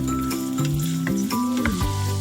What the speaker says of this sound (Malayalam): വെളുത്തുള്ളി എന്നിവ മൂപ്പിച്ചെടുക്കാം കേട്ടോ.